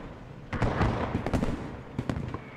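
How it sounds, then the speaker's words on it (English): Mortar rounds firing and impacting in the military shooter Post Scriptum, a burst of loud, overlapping booms and crackling blasts clustered together, followed by a couple more sharp reports near the end. "Mortar fires shifting straight to the central bridge immediately."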